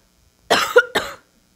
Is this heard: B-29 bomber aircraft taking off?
no